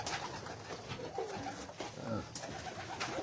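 Pigeons coo in a backyard bird pen holding blue and red hens, soft repeated coos over steady outdoor background noise, with some movement around them.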